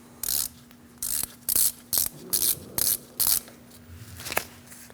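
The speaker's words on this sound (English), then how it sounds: "Loosen up that bolt," A hand ratchet loosens the ABS sensor bolt on the steering knuckle of a 2012-2020 Chevrolet Sonic. Seven quick bursts of clicking, close and fairly loud, come at a steady rhythm with short pauses between, and no voice is heard.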